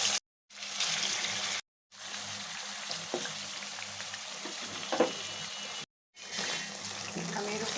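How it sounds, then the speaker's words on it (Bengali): Chicken meat fries lightly in oil with a steady sizzle and crackle that continues throughout, broken by a few brief gaps of silence. "তেলে দিয়ে আমি হালকা ভেজে নিব।"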